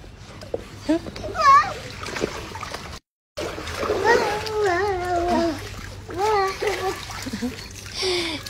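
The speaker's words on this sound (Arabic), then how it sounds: "خلينا نكب المي على المسبح" Water is poured into a children's backyard pool, a splashing pour running under an adult and children talking close by, with a brief gap of silence partway through.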